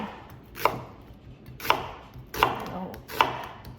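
A knife chops through an onion on a cutting board while preparing a beef and onion stir fry, four sharp, evenly spaced thuds ringing out up close with no talking.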